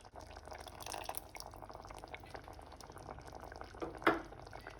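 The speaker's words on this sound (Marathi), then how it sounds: "हांव आतां आमसाणें उदक उडयतां" Tamarind water pours into a simmering Goan squid curry, a faint bubbling and liquid splash with a brief louder gush near the end, close but quiet.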